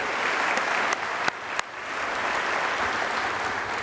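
Sustained audience applause at a membership general meeting honoring Directors Emeriti, a dense steady wash of many hands with a few sharper nearby claps standing out, fairly loud and even throughout.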